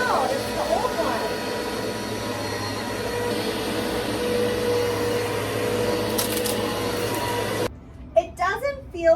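A new vacuum cleaner runs with a steady broadband whir and hum for most of the clip, then cuts off abruptly, followed by a few brief sounds.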